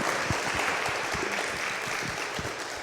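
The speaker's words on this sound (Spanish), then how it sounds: "Vamos a darle un aplauso al Padre José Gabriel." Church audience applauding a priest, a steady wash of clapping at moderate level with some individual claps audible, continuous for a few seconds.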